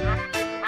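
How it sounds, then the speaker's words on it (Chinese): A yellow-headed catfish held by its gills gives a few harsh, throaty croaks in quick succession, close and fairly loud. "抓住它两个腮的时候它会咕咕咕的叫"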